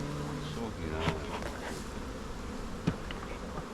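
Honeybees hum in a steady, dense drone at an open hive, close and continuous, with a couple of sharp knocks or clicks and faint talk in the background.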